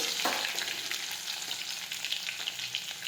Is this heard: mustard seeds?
yes